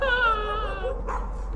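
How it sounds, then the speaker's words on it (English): A dog in the horror game Layers of Fear attacks, giving a loud whine-like yelp with a rising, wavering tone, sustained for nearly a second before a brief snarl; no talk over it. "Attacked by a dog."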